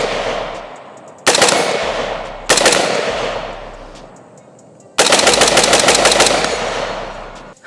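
Gunshots fired through a Fleshlight used as a suppressor, three loud bursts of rapid fire, each followed by a fading echo, with the last burst running longest.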